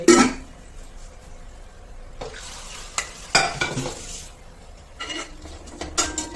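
Paneer fries in a pan with spices, sizzling unevenly under bursts of spatula scraping and clattering against the cookware, close and fairly loud.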